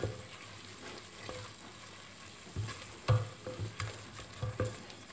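Paste for moussaka being stirred and worked in a pan as it cooks, with a low sizzle under scattered scraping knocks from the spoon, louder bursts clustering toward the end.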